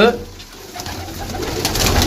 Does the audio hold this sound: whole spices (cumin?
no